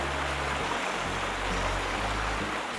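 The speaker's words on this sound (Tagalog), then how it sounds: "tambay muna rito sa man-made waterfalls at damhin ang lagaslas ng tubig" Man-made waterfalls at Bato Springs Resort in San Pablo City, Laguna, with water rushing and splashing in a steady, close, continuous wash and a low rumble underneath.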